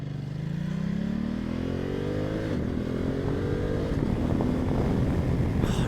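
A 2020 Ducati Multistrada 1260S accelerates hard, its engine note climbing steadily in pitch through a gear before shifting and rising again, loud and close with wind noise underneath.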